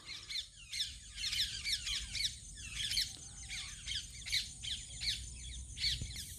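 Parrots squawk and chatter by a rice field at harvest time in the early morning, giving a dense run of sharp, repeated calls throughout against a quiet rural background.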